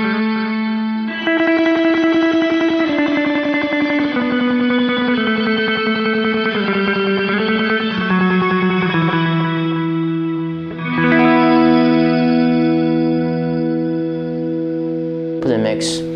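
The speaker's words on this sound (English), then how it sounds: "And this one has the shimmer reverb with the tape delay" An electric guitar played through the Horizon Devices Flux Echo pedal, using its shimmer reverb with tape delay, rings out in sustained chords with bright, shimmering, swelling tails; a fresh chord arrives later and blooms loudly.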